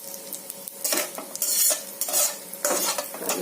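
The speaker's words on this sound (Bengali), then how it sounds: "কালো জিরে আর শুকনো লঙ্কা দিয়ে এই ঢ্যাঁড়সগুলোকে একটু নেড়ে দিচ্ছি" A utensil stirs okra in a hot pan with nigella seeds and dried chili, giving repeated scraping strokes in uneven bursts over a soft sizzle, close and fairly loud, with no voices.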